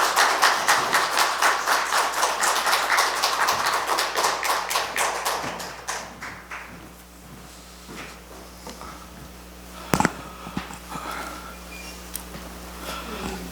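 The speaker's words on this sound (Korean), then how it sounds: "목사님 나오실 때 한번 큰 박수로 환영했으면 좋겠습니다" A congregation at a church's 18th anniversary gathering claps loudly to welcome the pastor, a dense burst of many hands that fades out after about six seconds, leaving a quiet room with a few scattered taps and one sharp knock.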